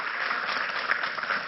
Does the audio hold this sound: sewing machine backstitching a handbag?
no